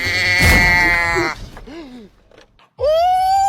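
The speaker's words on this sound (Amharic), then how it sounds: "ወይ በግ ነው" A sheep bleats loudly and close by, a long wavering cry followed by a few shorter strained groans, then a second bleat rising sharply at the end.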